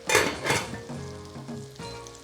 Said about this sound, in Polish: Druga partia boczniaków również już jest na patelni.